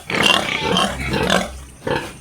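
Newborn Large White piglets in a backyard pig pen squeal and grunt loudly in noisy, overlapping bursts, close by, with a short pause before another burst.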